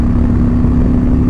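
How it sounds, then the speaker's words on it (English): Loud, close engine roar from a Harley-Davidson Low Rider S 114 motorcycle, a steady deep throbbing drone held throughout with no speech over it. "you twist that throttle, you feel the noise in your entire body."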